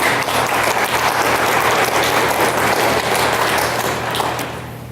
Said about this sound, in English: One more round of applause for Annabelle Van Meter.